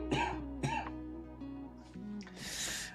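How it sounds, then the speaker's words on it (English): Two sharp coughs from a man with a cold ring out close together near the start, followed by quieter throat noises and a breathy rasp at the end. "I need to cough, hold on."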